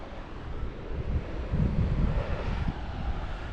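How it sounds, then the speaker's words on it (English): Calm but choppy sea waves on a rocky Bold Coast shoreline, a soft continuous rush and wash with gentle swells rising and falling, mixed with wind buffeting the microphone. "The sea is pretty calm, choppy but calm."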